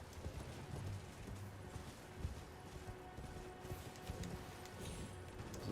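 A horse gallops in Elden Ring with a steady, muffled clip-clop of hooves. The hoofbeats run continuously through a dense, noisy game soundscape.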